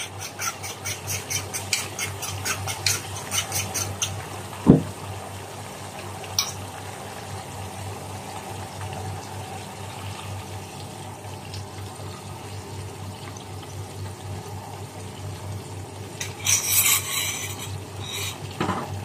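Fish sauce with eggs bubbles in a pot on the stove, a soft continuous simmer with scattered clinks and scraping noises, brief louder rustles at the start and near the end.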